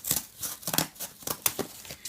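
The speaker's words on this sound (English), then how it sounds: "I hate cutting cardboard." Small scissors snip through cardboard in a series of short, crisp cuts with a crinkling edge, close and fairly quiet, arriving in irregular bursts with brief pauses between them.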